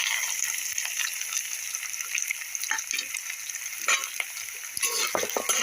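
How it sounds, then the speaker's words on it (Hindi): Chopped onions fry in hot oil in a pan for a chana ghugni, a steady close sizzle with occasional stirring scrapes and crackles, no voices. "इस प्याज को हमें इस तेल में तब तक फ्राई करनी है जब तक ये हल्की सी सॉफ्ट ना हो जाए"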